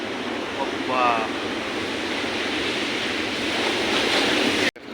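Foaming sea waves wash onto a flooded shore in a steady, loud rush, with a brief voice-like sound early on and an abrupt cut just before the end.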